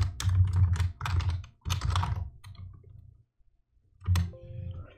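Typing on a computer keyboard while renaming a file on a PC, two quick bursts of close clicking keystrokes, a short pause, then a final short flurry of taps.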